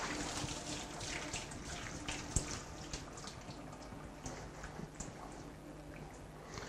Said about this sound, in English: take our sieve. There we go. And then just drain the pasta.